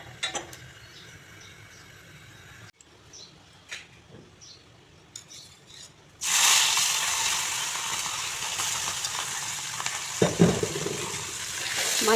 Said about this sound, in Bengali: দেখুন প্রথমে আমি মাছগুলোকে হালকা ফ্রাই করে নেব